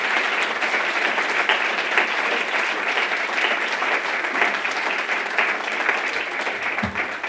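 A crowd at a fireside gathering applauds June, John and Lauren, a loud, even wash of clapping from many hands that holds steady throughout without pause.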